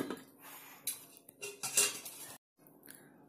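A metal lid is set onto a simmering pot of egg masala curry, with close clinks and clatters of metal, followed by a brief silence and quieter handling.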